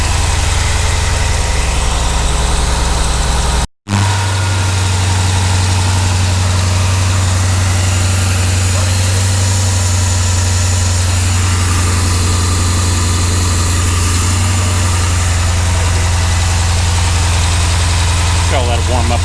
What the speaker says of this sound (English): say this air box is almost silent. All you hear is machine noise of the engine.